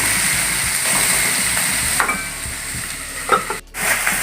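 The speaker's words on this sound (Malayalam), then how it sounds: "സവാള കുറച്ച് നേരം മൂടി വെച്ച് കഴിഞ്ഞാൽ മൂടി തുറന്ന് വെച്ചിട്ട് പിന്നെ വാട്ടിക്കോളാം" Onions sautéing in a pan give a steady, close sizzling hiss with a few soft scrapes and clatters, and one short break near the end, with no talking.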